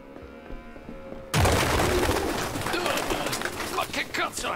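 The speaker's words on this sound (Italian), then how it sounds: "Uccelli." After a second of near quiet, pigeons in the video game Detroit: Become Human suddenly fill the space with a loud, dense flurry of bird sounds that continues steadily to the end.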